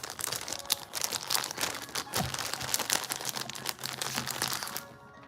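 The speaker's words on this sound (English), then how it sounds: "I'm gonna wrap my bag like this so the filter's on the inside." A mushroom grow bag with a filter patch is folded and wrapped by hand, giving a quiet, continuous plastic crinkling and rustling close by that fades out at the end.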